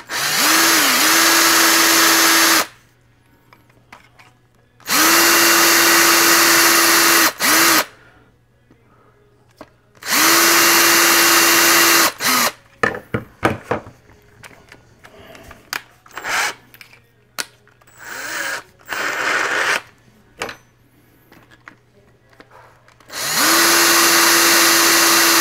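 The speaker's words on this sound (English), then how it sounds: "drill our other hole, and hopefully these line up" A power drill whines loudly in several long bursts, with scraping and tapping between runs as the bit bores a pin hole in a sculpted quarter-scale Wolverine figure.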